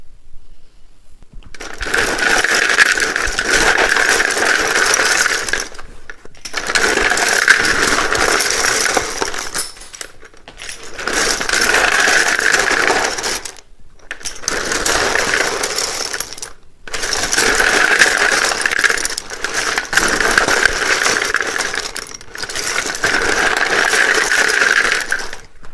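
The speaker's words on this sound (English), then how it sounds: "it can be a little bit loud when I shuffle these" Tarot cards are shuffled loudly and close up in repeated bursts of rapid riffling and crackling, about five or six rounds separated by brief pauses, with no talking.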